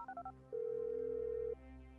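Phone dialing inside Grand Theft Auto V: a quick run of four or five clipped keypad tones, then one steady sustained tone for about a second, quiet and clean with no talk.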